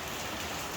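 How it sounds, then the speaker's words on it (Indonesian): Steady rain falls in Kenongorjo at night, a dense, even hiss of drops with no other sounds in the brief moment. "Masih posisi hujan, bro."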